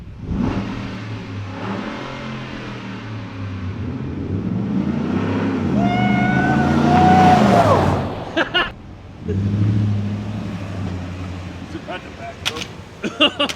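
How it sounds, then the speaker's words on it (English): A Ford F-150 Raptor truck rolls over a 1911 and a Glock pistol on concrete, its engine droning close by and revving to a rising peak before cutting off, with brief knocks near the end and voices in the background. "we will run over it with a truck"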